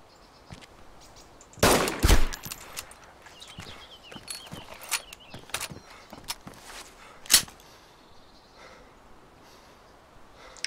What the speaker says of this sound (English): It's your friend upstairs shooting at me.